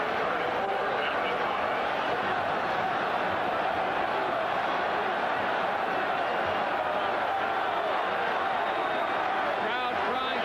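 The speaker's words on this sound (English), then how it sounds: "Crowd crying for Texas to go for it." A stadium crowd at a 1986 Oklahoma vs. Texas college football game roars in a sustained, dense wash of cheering that holds at a steady loud level throughout, with a voice talking over it.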